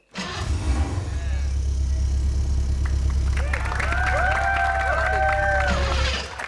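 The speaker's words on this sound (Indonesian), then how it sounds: "kita coba dulu motor ini bunyi Motornya" A motorcycle engine hums steadily and loud close by, joined later by rising whistling tones and crowd noise, with voices underneath.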